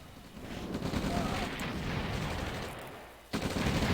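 A dense, continuous din of gunfire and explosions rumbles through a real-time strategy game battle as tanks and rocket troopers assault pillboxes, briefly dipping before surging loud again.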